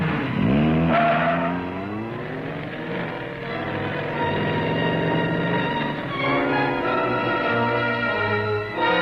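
A car drives hard with tyres skidding and squealing, the engine tone sweeping and holding loud and close throughout, with no talk over it.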